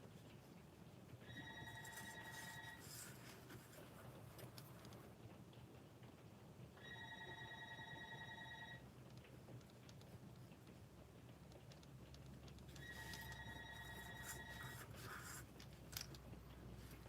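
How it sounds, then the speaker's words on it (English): A telephone rings three times in separate bursts of electronic trilling, each lasting about two seconds, heard indoors over a soft background hiss with no talking. "Someone is ringing my phone."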